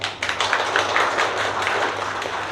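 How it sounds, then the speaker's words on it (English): Audience applause at a startup event, a dense crowd clapping steadily throughout, close and loud, with a low steady hum running underneath. "I request everyone to please give them a huge round of applause"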